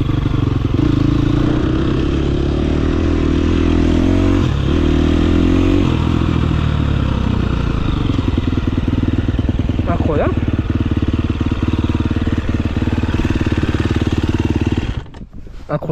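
A KTM 350 SXF dirt bike being ridden, its four-stroke engine droning and revving steadily at close range with some clatter, before cutting off near the end.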